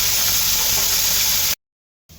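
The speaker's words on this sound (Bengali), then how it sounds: "মাছগুলো ভাজা হয়ে গেছে, এবার নামায় নেব।" Fish rubbed with salt and turmeric sizzle in hot oil in a pan, a loud, dense, continuous frying hiss that cuts off abruptly, then returns briefly after a gap of silence.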